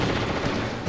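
Automatic gunfire from the video game Metal Gear Solid. A continuous, rapid burst of shots fills the short moment, loud and close, with no talk over it.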